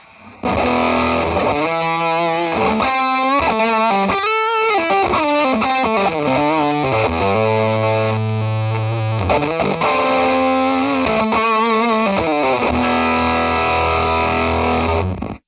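Heavily fuzzed electric guitar through a bright fuzz pedal, playing a sliding, bending riff, thick and saturated with a buzzy, compressed tone, loud and continuous with no talking.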